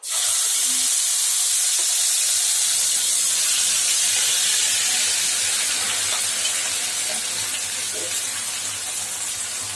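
Ground masala paste sautés in a hot pan for paneer butter masala, a loud, continuous frying hiss throughout with a faint low hum beneath.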